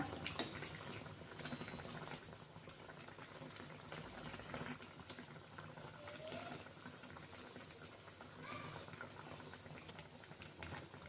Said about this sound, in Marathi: सोनेरी रंग येईपर्यंत आपल्याला तळायचे आहेत